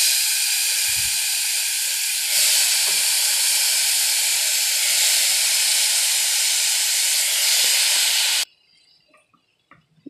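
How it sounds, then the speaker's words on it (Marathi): Bottle gourd and soaked moong dal drop into a hot pan, setting off a loud, steady sizzling hiss that holds for about eight seconds and then cuts out abruptly into near silence. "त्याच्यानंतर ही दुधी आणि मुगाची डाळ जी भिजत ठेवलेली आपण ती आता त्याच्यामध्ये आपण ॲड करू"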